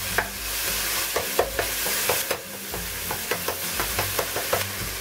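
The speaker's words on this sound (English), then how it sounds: "Add the beef. Let it cook." Beef pieces cooking in a pan for Hong Kong style beef and lettuce fried rice, with a steady sizzle under repeated sharp clacks of a utensil stirring and scraping the pan, close and fairly loud, no talking.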